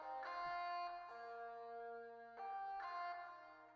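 A fighting-game guitar track played without OTT compression, sustained chord strums shifting every second or so, quiet and fairly flat in dynamics.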